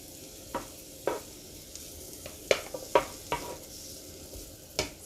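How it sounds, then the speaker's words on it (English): Zucchini and onion sizzle in butter on a hibachi griddle at home, a soft steady hiss punctuated by crisp, uneven spatula scrapes and clacks at close range. "I have zucchini, and I also have some onion that I've already cut up. So we're going to throw this on as well."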